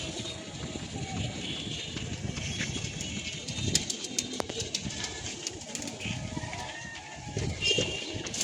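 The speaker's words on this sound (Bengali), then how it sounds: "আর এখানে কিছু কবুতর উঠতেছে" Pigeons in a loft, around forty birds, coo and rustle in a steady low murmur throughout, with occasional wing flaps and sharper clicks over a busy ambient background.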